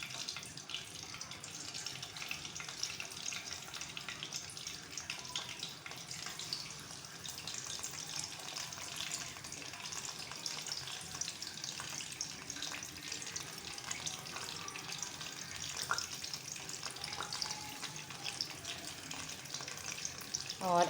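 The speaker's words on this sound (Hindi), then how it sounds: "मैं इनको डीप फ्राई नहीं कर रही हूँ, शैलो फ्राई करूँगी" Beef kacchay keemay kebabs shallow frying in oil in a pan, a soft, steady crackle and sizzle at low level running the full length with faint clinks, no talk over it.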